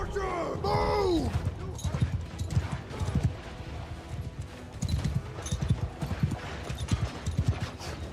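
Horse archers' hoofbeats in a Nord battle video game, a rapid clip-clop of galloping mounts mixed with a brief whinny and battle clamour, while someone shouts commands over them.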